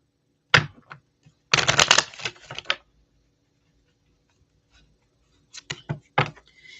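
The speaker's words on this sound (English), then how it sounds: "All right, Jessica, just let me give it a good shuffle a couple of times here, and we'll get right to it." A deck of cards being shuffled by hand, two separate crisp riffling bursts with quiet gaps between them and a few light taps, close and fairly loud.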